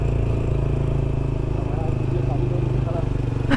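A motorbike climbs a steep mountain road from Siliguri toward Gangtok, its engine a continuous close rumble throughout, with a rider talking over it.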